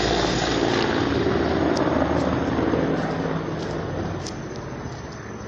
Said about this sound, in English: Watch this helicopter.